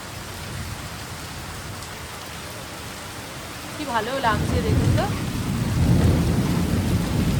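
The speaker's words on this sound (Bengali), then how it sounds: "তবে এখনো মেঘ ডেকেই যাচ্ছে, ডেকেই যাচ্ছে, বিদ্যুৎ চমকাচ্ছে।" Steady rain hisses on surfaces, and in the second half deep thunder rumbles in with a louder, rolling low roar. Someone talks briefly over the storm.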